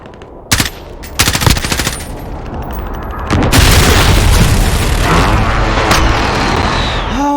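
Gunfire and airstrike explosions in a Call of Duty multiplayer match: sharp close shots and rapid bursts, then a loud sustained rumbling barrage of blasts, with game voices faintly present.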